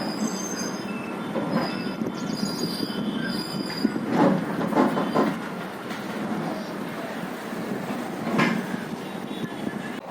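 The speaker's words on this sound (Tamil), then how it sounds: "இப்போ பார்த்தீங்கன்னா ஜோலார்பேட்டிலேருந்து வண்டி வந்து கிளம்பிடுச்சு" A sleeper express train pulls out of Jolarpettai, rolling steadily with loud, continuous rumble and sustained wheel squeal over clickety rail noise; no talk is heard.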